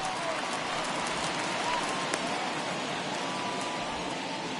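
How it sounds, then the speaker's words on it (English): Rain falling on the ballpark in MLB The Show 21 video game, a dense, even hiss that holds steady at a moderate level throughout, with faint crowd noise underneath. "we've mentioned the conditions aren't ideal with the rain coming down"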